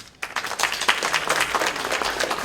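A small audience at a historic preservation presentation at the Culver Studios gives a short round of applause, starting after a brief quiet moment and continuing as dense, steady clapping up close.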